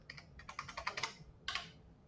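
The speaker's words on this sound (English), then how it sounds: "So then you go to your terminal, you type in" Keystrokes on a computer keyboard entering a command in a terminal, a quick run of close, crisp clicks followed by a short burst after a pause, with no talking.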